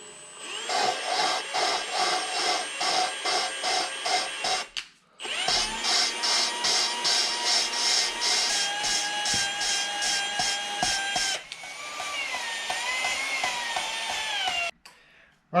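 A drill runs at low speed to lap the valves on a Toyota F135 engine head, giving a loud, steady whine with rhythmic pulsing, repeatedly stopping and restarting as the direction is reversed.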